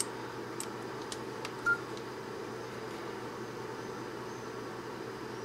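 A mobile phone switches on while powered through a DC-DC step-up converter (0.9–5 V in, 5 V out), giving a single short beep midway over a steady background hiss with a few faint clicks.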